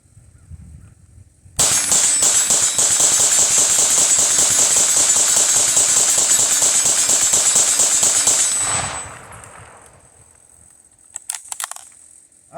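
A Kriss Vector submachine gun empties a full magazine in one sustained, rapid string of loud close shots lasting about seven seconds, followed by quiet handling clicks.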